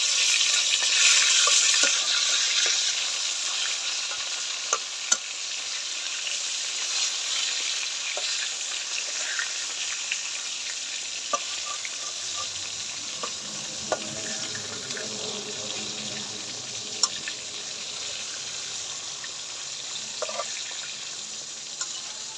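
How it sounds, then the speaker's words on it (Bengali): Fish frying in hot oil in a pan, a continuous bright crackling sizzle with scattered pops, loudest at the start and slowly easing, with no one speaking. "এই পিঠটাও ভালো করে ভেজে নিব।"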